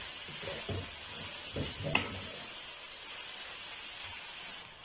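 Cabbage and other vegetables stir-frying in a pan for chicken chow mein, a steady close sizzle and hiss throughout, with a few soft stirring scrapes and no talk.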